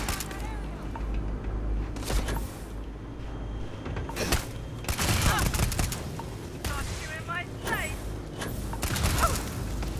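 Gunfire in the space RPG Starfield, with several bursts of shots and bangs spaced across the scene, mixed with mechanical clanks and voices talking over the combat.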